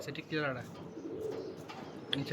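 A male Sowa Chandan pigeon coos repeatedly to his new female in a rooftop garden aviary, the throaty rolling calls fairly close and clear, with other birds faintly chirping behind.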